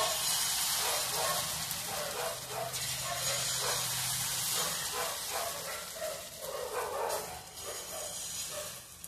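Instant dirdhe (chilla) batter hits a hot tawa griddle greased with a little oil and sizzles with a steady broadband hiss that swells and fades in waves, with no talking over it.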